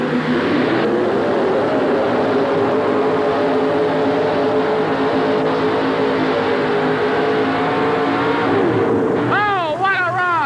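A Chevrolet truck pulls the sled at a 1988 truck and tractor pull in Birmingham, Alabama. Its engine roars loud and sustained at high revs and then drops off near the end, while an announcer talks over it.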